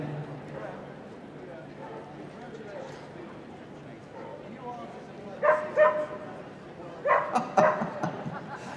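Barks from a six-year-old border collie ring out in short clustered bursts at an international large jumping agility competition at Crufts, standing out over a steady crowd and arena murmur with commentary-like talk underneath.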